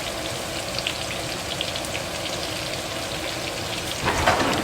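Coconut-crusted shrimp fry in hot oil, a dense continuous bubbling hiss like rain, moderately loud and close, with a brief swell of crackling near the end.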